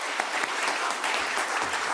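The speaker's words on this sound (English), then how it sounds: "Big round of applause." A crowd at a Day of Remembrance gathering claps for young elementary school children, a brief, continuous burst of dense applause with scattered sharper claps, steady in loudness throughout.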